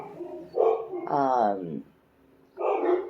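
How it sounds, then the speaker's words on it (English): Dogs barking indoors during a spoken card reading, a few sharp barks with a yelping, whimpering burst between them, fairly close and standing out over quiet background. "Now I've got dogs barking"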